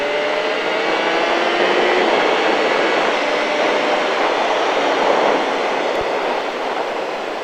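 A motorcycle accelerates on a race track at Le Vigeant: a steady, loud, high-pitched engine roar holds for several seconds with no talking.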